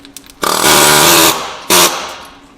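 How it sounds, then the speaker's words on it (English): An air hammer working a stuck bolt loose on a worn-out old farm truck in winter, hammering in a loud, harsh burst of about a second, then a shorter second burst after a brief pause. "we're gonna see if the air hammer will pull it out"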